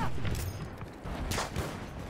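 Bursts of gunfire from a gun in the video game Battlefield 1, played on ultra graphics, crack out in quick ragged volleys with booming tails, loud and close, with no talking over them.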